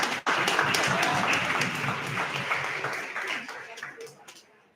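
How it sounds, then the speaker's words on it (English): An audience at a charity auction gives a short round of applause after a lot is sold, the clapping moderate and fading out over a few seconds, with some talk mixed in. "Say a round of applause."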